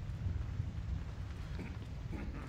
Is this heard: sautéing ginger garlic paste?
no